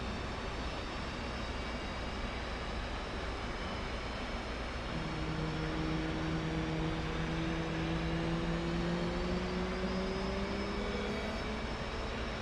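Twin engines of an F/A-18C in DCS World, a steady loud jet whine and roar with rising tones as the engines spool up, continuous and close with no pauses.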